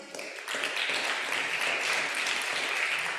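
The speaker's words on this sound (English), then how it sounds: "let's give her a round of applause" A church congregation applauds for Tracy Haskell during a flower communion and leadership recognition service, a steady wash of many hands clapping that swells after a brief quieter start and holds evenly.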